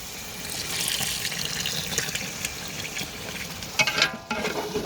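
Soy-marinated chicken stock is poured into a simmering biryani masala for black chicken biryani: a steady close liquid sizzle and splash over several seconds, with a brief louder spluttering near the end and no talking.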